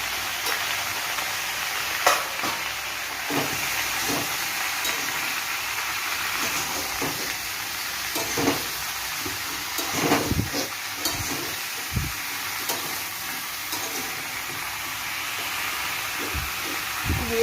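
Vegetables for a charchori sizzling in a pan with salt and turmeric: a steady, soft frying hiss, broken by occasional stirring scrapes and clicks.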